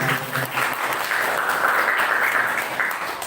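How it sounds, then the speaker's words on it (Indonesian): An audience at a student presidential campaign forum applauds: steady, fairly close clapping from a crowd of students that holds even through the short burst. "Tepuk tangan dulu sahabat"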